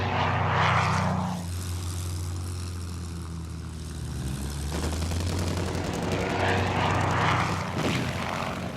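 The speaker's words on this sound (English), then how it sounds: "RAF fighters, vectored into position by ground controllers," RAF fighter aircraft diving in to attack an eastbound convoy: loud propeller engines roar past in two swelling passes with a steady drone between them, and rapid bursts of gunfire rattle in the middle.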